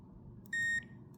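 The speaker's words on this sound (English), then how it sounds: "If I touch them, of course they beep" A multimeter's continuity tester gives a single steady electronic beep lasting about a quarter second, clear and close over a low background hum.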